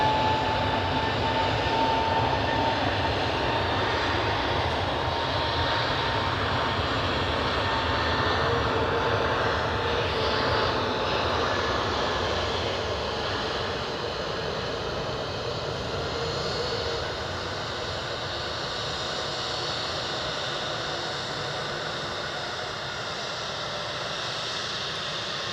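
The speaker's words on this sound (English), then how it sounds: "Bye, EasyJet." An EasyJet airliner's jet engines roar at Edinburgh Airport, a steady broad rumble and whine that stays loud throughout and eases slightly toward the end, heard from a distance outdoors.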